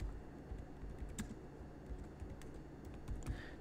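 Keys clatter on a computer keyboard in quick, uneven bursts, close and moderately quiet over a low background hum while someone types into an online store setup form.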